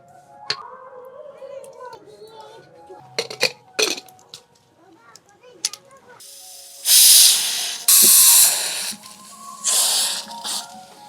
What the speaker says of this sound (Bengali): আলুগুলোকে এখন প্রেসার কুকারে একটু সিদ্ধ করে নেব ওই দু থেকে তিনটে সিটি দিলেই হয়ে যাবে